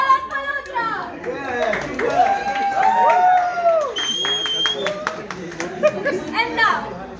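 At an awards-show introduction, a crowd claps and cheers for Sharad Malhotra with scattered sharp claps, while several voices talk and chatter loudly over the applause.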